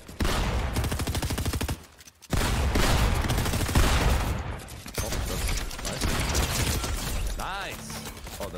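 Rapid bursts of automatic gunfire spray across a Fortnite match, loud dense rattling volleys that stop briefly then resume, mixed with building and mechanical game effects.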